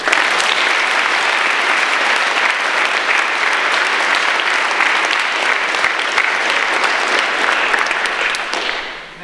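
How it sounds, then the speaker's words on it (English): Loud, sustained applause at a school assembly, dense clapping from a large crowd that carries on for several seconds before tapering off at the end. "let's give him a big round of applause"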